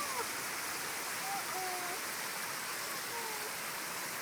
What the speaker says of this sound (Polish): Ładny wodospad.